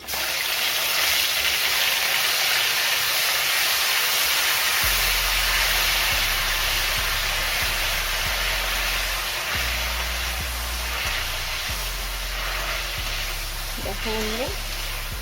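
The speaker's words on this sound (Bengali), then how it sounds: "তেজপাতাটা খুব ভালো করে ভাজা হয়ে গেছে" A bay leaf fries in hot oil in a pan over a low gas flame while cauliflower curry is being prepared. A steady, broad sizzle runs throughout, with brief clinks near the end.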